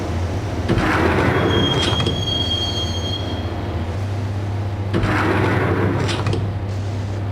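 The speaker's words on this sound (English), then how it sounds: "the train doors had already shut behind me, and I was in for the ride" Subway train ride in a Max Payne game: a steady low rumble of rolling rail cars with two bursts of high metallic wheel squeal, continuous and loud throughout.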